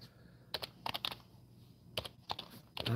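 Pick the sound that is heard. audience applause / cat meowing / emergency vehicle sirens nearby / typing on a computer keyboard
typing on a computer keyboard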